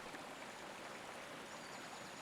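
A creek flows steadily with a soft, continuous rushing and bubbling hiss, faint and even throughout with no other sounds.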